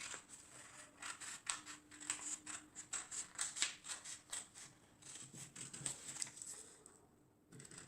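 Scissors cutting through a paper sewing pattern for a strapless tube top, a run of quick close snips and crisp paper rustles in irregular rhythm, alone without talk.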